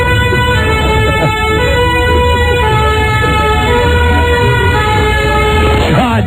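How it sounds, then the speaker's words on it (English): A French police car siren wails loudly as the vehicle passes, a steady two-tone wail over engine and road rumble that fills the whole stretch. "One last French police car going by."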